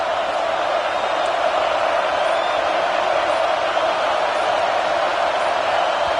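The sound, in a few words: stadium crowd noise in a football video game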